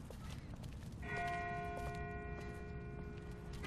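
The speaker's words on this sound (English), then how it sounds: "That's not the same bell as before. This one's further off." A distant bell tolls in The Walking Dead video game, a sustained ringing tone with a couple of soft repeated strikes over a steady low ambient rumble, with no talk.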